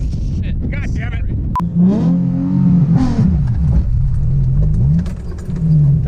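A budget rear-wheel-drive car, a G35 or Mustang, revs loudly during a burnout attempt, the engine note climbing and falling in sweeping surges close by, with voices talking over the roar.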